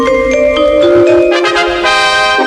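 Short 1980s London Weekend Television ident jingle: smooth sustained synth tones glide in and swell into a bright layered chord, loud and continuous for about two and a half seconds with no talk.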